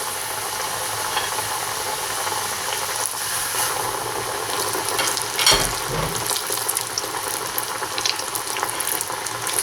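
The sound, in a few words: breaded potatoes frying in preheated oil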